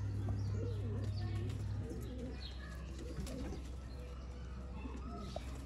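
Golden pigeons coo softly in a loft, low repeated calls close by with faint chirps from other birds and a steady background hum.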